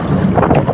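Strong wind gusts roar and buffet steadily at sea at night from a small fishing boat working nets in rough, choppy water, with no talking.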